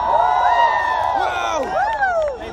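A huge concert crowd at a rock contest final cheers and whoops loudly and continuously, with shrill individual shouts rising and falling above the roar of the crowd.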